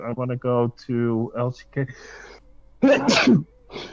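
A single sharp sneeze bursts out during a League of Legends stream, loud and close, following and followed by casual talk from the streamer.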